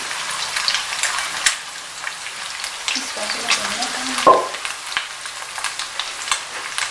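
Chicken and carrots sizzle as they are stir-fried in a pan for chicken fried rice, a close, steady frying hiss with scraping stirs and one sharper clatter partway through.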